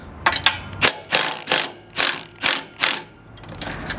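A ratchet wrench clicks in quick, loud bursts as it loosens the X axis belt tensioner bolt on an R300 or ProSlab harvester, with several separate strokes and brief pauses between.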